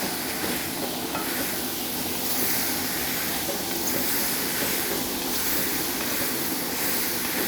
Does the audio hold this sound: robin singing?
no